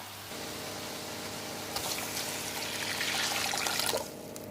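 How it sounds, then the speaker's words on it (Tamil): Water pours steadily into a pot of tomato rasam, a rising liquid rush that swells midway and then cuts off, with a low background hum underneath. "கொஞ்சம் தண்ணி சேர்த்துக்கலாம்."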